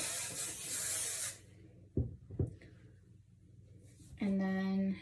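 A can of hair spray fires one close, steady hiss for just over a second, followed by two soft knocks from handling and a brief buzzing tone near the end.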